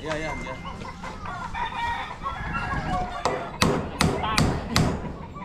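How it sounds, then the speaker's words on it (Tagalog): Chickens cluck and a rooster calls amid background voices, followed by several sharp thumps like hammering near the end. "Manok."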